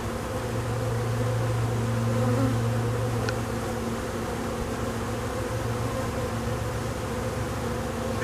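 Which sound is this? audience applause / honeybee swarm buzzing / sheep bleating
honeybee swarm buzzing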